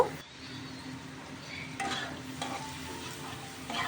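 Fish frying and being stirred in mustard oil in a pan, a steady close sizzle with scraping strokes of a spatula throughout, no voices.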